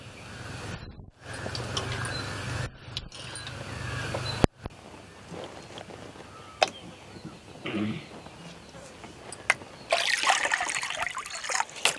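Chopped chicken liver is rinsed in water, with running water trickling and splashing in uneven bursts over about twelve seconds, close by and fairly quiet, with occasional clinks and a brighter gush near the end.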